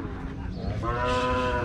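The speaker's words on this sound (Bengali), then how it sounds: "গরুগুলো মোটামুটি বড় গরু আছে, আপনাদেরকে দেখাই।" A cow lets out a loud, drawn-out moo close by at a calf and cattle market in Rajshahi, Bangladesh, over busy background crowd noise.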